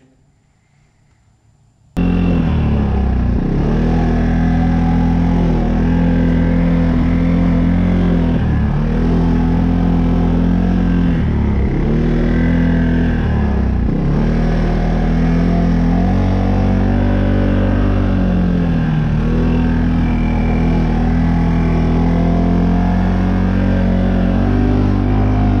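A 2021 CFMOTO CFORCE 600 ATV rides at night, its engine droning loud and steady close by, with periodic dips and swells in pitch as the throttle shifts.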